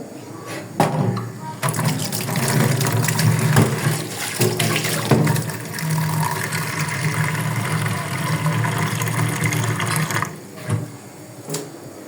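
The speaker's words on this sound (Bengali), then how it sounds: "এখন সামান্য পরিমাণে একটু পানি দিয়ে দিব ভর্তি।" Water poured into a pot of fish curry with potato and jackfruit seeds, a steady pouring and filling rush lasting about ten seconds, close and fairly loud, tapering off near the end with no talk.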